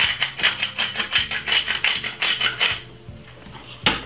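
Black pepper cracked from a grinder over a cucumber salad, a quick run of dry, crunchy grinding bursts repeating in steady rhythm at close range, then trailing off with one last sharp crack.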